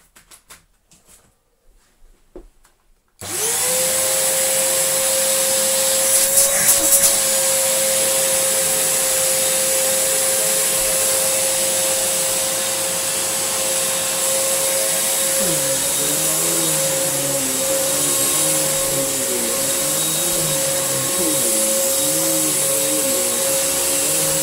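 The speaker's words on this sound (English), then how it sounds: "let's turn it on and see what it does" A bagless vacuum cleaner switches on after a few quiet seconds of handling clicks, then runs with a loud, steady motor whine and airflow hiss, the pitch dipping and wavering as it is moved about.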